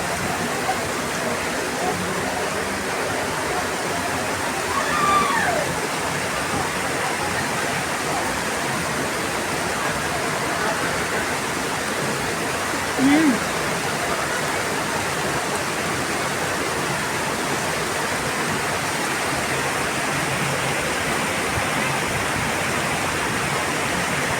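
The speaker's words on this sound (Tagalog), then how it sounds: "Grabe ang lakas ng ulan" A steady, dense roar of heavy rain pours continuously, an unbroken wash of noise with a couple of faint brief sounds rising above it.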